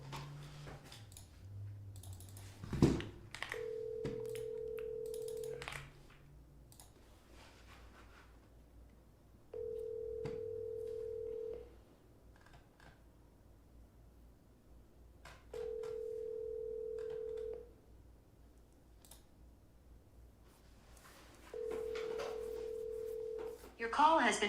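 An outgoing telephone call rings back through the handset in four evenly spaced two-second tones, faint and steady, with a little background handling noise and no clear talking.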